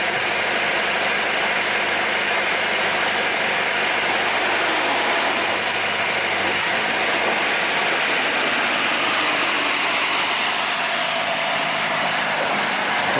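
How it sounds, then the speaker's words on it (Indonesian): A sugar cane railway locomotive at the PG Kedawung sugar mill pushes a line of empty cane carts toward the fields, giving a steady, loud engine drone with rattling and clanking throughout and no voices. "lokomotif mencoba mendorong lagi teman-teman, dan akhirnya berhasil mendorong lori-lori kosong ini menuju ke kebun tujuan"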